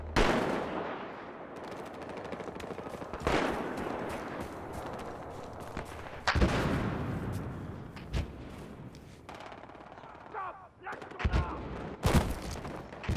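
Gunfire in the video game Battlefield Hardline: loud, dense automatic bursts and sharp single shots with heavy booms, continuing through the whole stretch while a player talks over the action.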